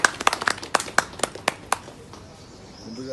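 Audience clapping at a Telugu novel launch meeting: a burst of sharp, scattered hand claps in the room that thins out after about two seconds, leaving quiet room tone.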